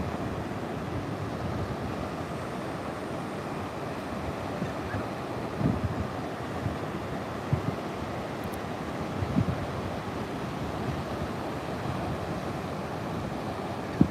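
Small surf rolls in at Rainbow Bay on the Gold Coast, a continuous broadband wash of breaking waves with wind buffeting the microphone and a few faint knocks, no voices heard.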